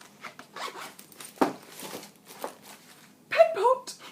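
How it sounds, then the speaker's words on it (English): A zipper is drawn shut on a Neocritz Transformer pencil case, a Japanese-made case: a quick rasping zip near the end, close and clear, after some handling rustles and brief talk. "Zipped up, fabulous."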